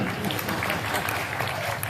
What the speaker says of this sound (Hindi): पुरुष के सम्मान में वो जोरदार ताली बजाओ जरा।